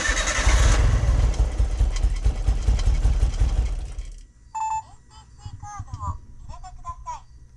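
An Autozam AZ-1 engine cranks and catches, running loud and rough for about four seconds before cutting out, after which people talk nearby over a faint low hum.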